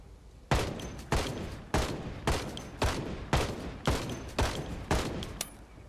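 Rapid gunfire aimed at zombies in Project Zomboid: about nine loud, evenly spaced gunshots, each with a short ringing tail, fired alone with no talk over them.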